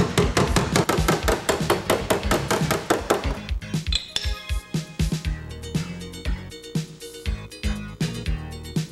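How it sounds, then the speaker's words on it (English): A slide hammer screwed into holes in a dented car body panel knocks repeatedly, sharp metallic clanks in a fast, steady rhythm that then turn into slower, irregular thuds and clinks, close and loud. "Screw the slide hammer into each hole and slowly work the damage out."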